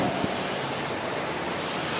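Steady, dense roar of heavy rain pouring down, constant and loud throughout with no pauses.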